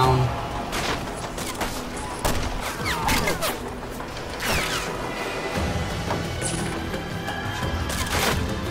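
Machine gun fire in the Vietnam war game Men at War, dense crackling bursts and distant explosions layered with mechanical clatter, continuous and moderately loud under a voice.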